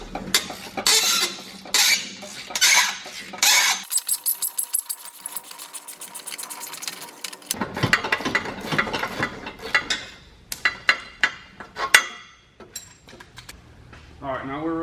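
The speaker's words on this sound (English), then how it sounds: "bring out the vice grips" Vice grips and hand tools work on the rear axle of a Mazda FC3S RX-7, giving close bursts of ratcheting clicks and sharp metallic clanks with pauses between them.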